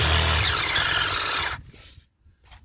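Hand sawing with a saw blade through car brake and axle parts, a steady loud rasping stroke lasting about a second and a half before stopping, followed by a few faint knocks.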